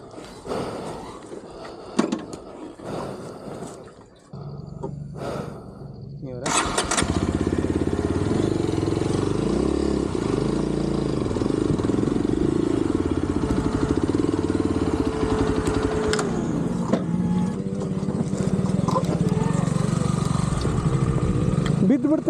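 A Yezdi motorcycle engine fires up after a few seconds of scuffing and handling noise, then revs steadily and loudly up close for the rest of the stretch, with the pitch shifting as the throttle is worked.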